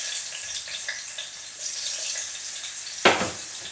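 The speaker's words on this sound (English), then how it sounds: "just make the oil pretty hot. Put in the chips" Chips fry in hot oil in a pan, a steady close sizzle throughout, with one sharp louder crackle as more go in near the end.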